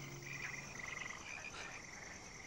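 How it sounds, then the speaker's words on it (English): Frogs croak at night in a dense, steady chorus, with a nearer frog's rapid pulsing trill rising above a constant background of calls and no talk. "It's the frogs."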